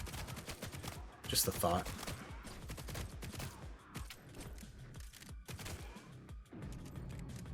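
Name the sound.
continuous gunfire in a roguelike video game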